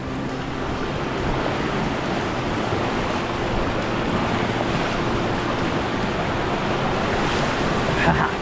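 Cold creek water rushes steadily and loudly close by, a continuous broadband wash with no breaks, like someone standing just past a creek crossing in Cow Creek.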